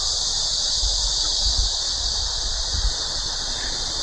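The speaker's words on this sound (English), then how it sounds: "I don't know if you guys can also like hear this noise that the crickets are making from behind me" Crickets chirping outdoors in China, a dense continuous high-pitched trill that holds steady throughout, with faint low rumbles and rustling underneath.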